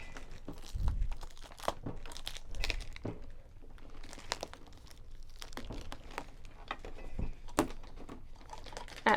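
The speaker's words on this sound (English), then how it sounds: "And I'm going to get rid of all that packaging." Plastic and paper packaging from a Cricut Explore 2 cutting machine crinkles and crunches as it is pulled off and balled up, a steady run of close rustles and tearing bursts with no talk.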